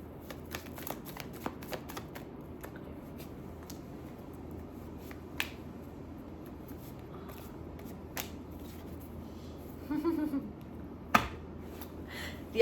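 A deck of tarot cards is shuffled during a reading, giving crisp riffles and sharp snaps at close range. A few louder slaps near the end stand over a quiet room with no talk.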